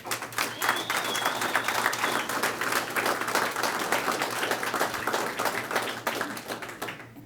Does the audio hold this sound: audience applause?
yes